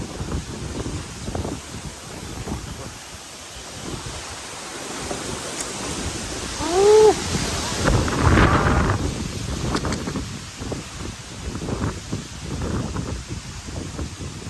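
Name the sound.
strong stormy wind in rice fields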